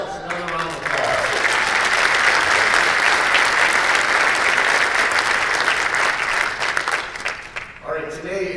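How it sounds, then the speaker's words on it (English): Audience at an annual meeting breaks into loud, dense applause that holds steady for several seconds, with a speaking voice briefly heard just before it starts and again as the clapping fades. "Let's give ourselves another round of applause."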